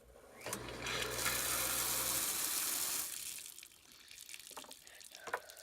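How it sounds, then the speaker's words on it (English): A water pump on a system assembled from spare parts starts up with a corroded one-way valve, giving a low motor hum and rushing water for about two seconds before settling to a quieter run with light clicks. "let's go ahead and fire the pump up, see what happens"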